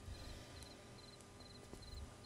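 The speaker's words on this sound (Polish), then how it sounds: "To w ogóle słyszę takie świerszcze." Crickets chirp in short regular pulses, about five bursts evenly spaced, over a steady low ambient hum in a Tomb Raider video game scene.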